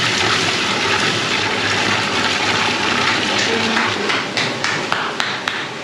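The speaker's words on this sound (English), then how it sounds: "So there's water going around the system now, pushing all the milk through." Water rushes through a farm milking system, pushing milk into a large mobile vat, a loud steady gushing flow with a few sharp clanks and knocks toward the end.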